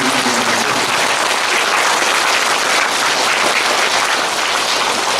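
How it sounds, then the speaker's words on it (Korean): Applause from the audience at a year-end thanksgiving gathering of a Korean Buddhist meditation center, heard as a loud, dense, steady wash of many hands clapping together throughout. "박수로 한번 좀 감사했습니다"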